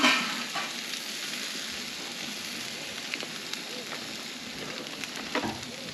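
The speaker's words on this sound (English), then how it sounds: "Crayfish going on. I'm going to try not to spill the garlic butter out." Spiny lobster tails sizzle steadily in garlic butter in a hot pan, a dense, even frying hiss with small pops and crackles throughout, fairly close and moderately loud with no talking.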